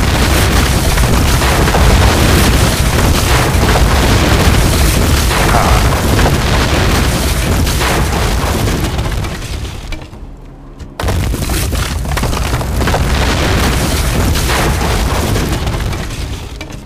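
Buildings being destroyed in Rome: Total War – Barbarian Invasion, a Saxon campaign, produce a continuous loud roar of rumbling crashes and booms that drops briefly near the end before resuming.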